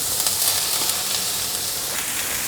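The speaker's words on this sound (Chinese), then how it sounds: "现在放入香菇。" Shiitake mushrooms sizzle in a hot frying pan alongside carrots and enoki, a loud, close, continuous hiss and crackle of frying with no talking.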